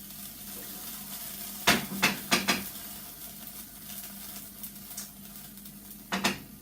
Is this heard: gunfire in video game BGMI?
no